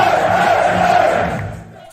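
A lively crowd at a darts event roars steadily, a dense wash of cheering and shouting that holds loud, then thins and fades toward the end before a sudden brief swell.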